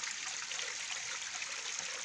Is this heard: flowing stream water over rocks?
yes